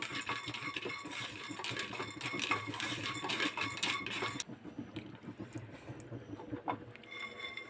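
Peanuts dry-roasting in a pan for sesame chutney give a close, busy rattling and scraping clatter that runs steadily, then thins to sparser clicks for the last few seconds.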